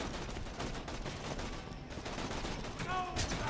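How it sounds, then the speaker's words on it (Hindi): Video game gunfire in Borderlands 2: rapid bursts of shots crackle in a busy, continuous volley, mixed with other game effects at a fairly low level. "कौन गोलियां मार रहा पीछे से"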